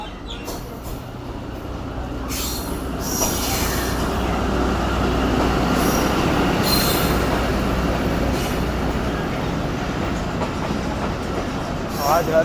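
A Jaffer Express passenger train hauled by a Chinese ZCU locomotive rolls at speed toward Lahore, giving a loud, continuous rumble with rhythmic wheel clatter and faint squeal throughout.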